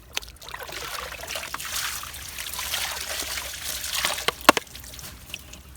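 Water trickling and splashing as debris is rinsed off a collection net into a bucket, a close, uneven pouring wash with a few sharper drips and splashes.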